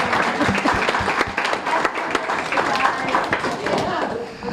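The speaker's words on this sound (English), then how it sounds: "I'd also like to give a round of applause to the 48th anniversary of my parents over here." Applause from a dinner gathering on a farm, celebrating a couple's 48th wedding anniversary; steady, fairly loud clapping fills the whole stretch with scattered voices mixed in.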